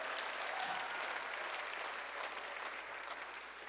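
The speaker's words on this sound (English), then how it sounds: "Yes, you can just clap to that." Steady audience clapping at a student conference, a continuous even wash of applause that fills the whole moment and eases off slightly toward the end.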